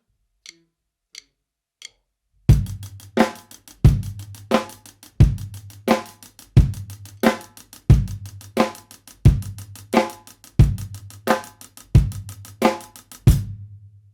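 After three soft stick clicks counting in, a drum kit plays a lighter half-time rock groove with 16th notes driven by the fingers, steady kick and snare hits under a crisp even pulse, close and alone.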